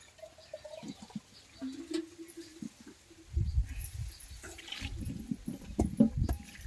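Wild spine gourds, kartule, are swished and rinsed by hand in a vessel of water, with splashing and sloshing that grows louder and busier in the second half, plus a few knocks against the container.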